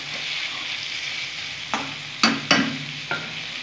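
Potol posto, pointed gourd in mustard paste, frying in a pan with a steady sizzle broken by a few sharp spoon scrapes and knocks against the pan, no talking.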